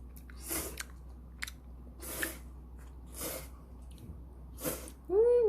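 Someone eats anchovy kalguksu noodles at close range, making a few distinct slurps and chewing bursts separated by quiet pauses. A short voiced murmur comes at the end.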